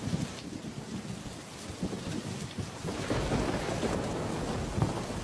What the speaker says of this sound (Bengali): দেখো কেমন মেঘ ডাকছে, বৃষ্টিও দেখো কত জোরে জোরে পড়ছে। বাবা, শিলা বৃষ্টি হচ্ছে এখন।